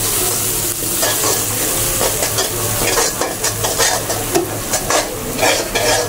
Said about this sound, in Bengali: এবার আমি একটু করে জল দিয়ে আর একটু কষিয়ে দিই।